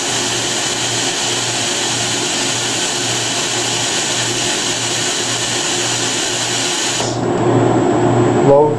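PWS HPS10 machine running a dry cycle to heat its die, a loud steady whine with a constant hum that holds for about seven seconds, then shifts to a lower, rougher running sound.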